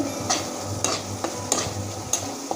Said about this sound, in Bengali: এখানে আছে জিরে ধনে গুঁড়ো এটাও দিয়ে দিচ্ছি এবার সুন্দরভাবে নেড়ে নেব সব মশলা পরে গিয়েছে